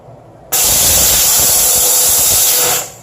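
A HomeRight steam cleaner's loud, steady hiss bursts on suddenly as a toothbrush is steamed, holds evenly for about two seconds, then tapers off; no voices.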